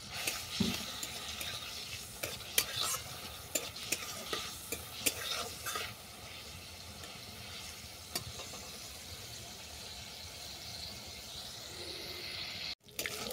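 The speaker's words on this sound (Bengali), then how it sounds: "দিয়ে দিচ্ছি 5 ফোড়ন। ফোড়নটাকে ভালো করে ভেজে নেব।" Panch phoron whole spices frying in hot oil in a pan, a soft steady sizzle with scattered sharp crackles and pops and occasional stirring, gentle and close, with no talking.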